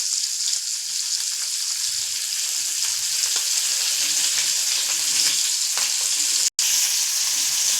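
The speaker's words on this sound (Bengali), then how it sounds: "এখানে মাছটা ভাজা হচ্ছে" Fish frying in oil in a kadai, a loud, close, steady sizzle with faint stirring throughout, broken only by a split-second gap near the end.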